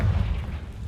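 A Confringo spell in Hogwarts Legacy detonates with a deep, muffled boom, its low rumble heavy at the start and then decaying over a second.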